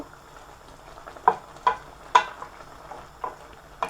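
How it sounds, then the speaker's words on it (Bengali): Eggplant and greens with bottle gourd leaves and a few prawns stir-fry in a pan: a low, quiet bubbling sizzle broken by several sharp spatula knocks and scrapes at uneven intervals, heard up close without speech. "এখন বেগুনটাও শাকের সাথে চার পাঁচ মিনিট একটু কষিয়ে নেব"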